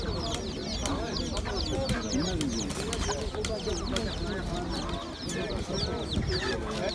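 Chickens clucking and squawking at a busy poultry market in Taşköprü, Kastamonu, a steady dense chorus of bird calls with vendors and shoppers talking over it throughout.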